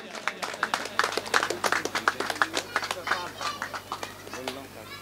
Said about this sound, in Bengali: আপনারা একটা জোরে হাততালি দিয়ে শ্রী রাজুকে সম্বর্ধনা জানান